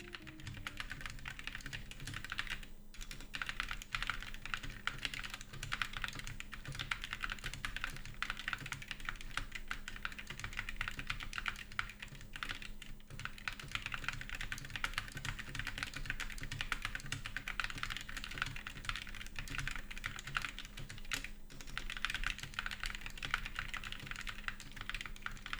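Continuous steady typing on a Skyloong SK61 keyboard with optical red switches, a fast even stream of light key clicks and thocks held close for the whole stretch, no voices.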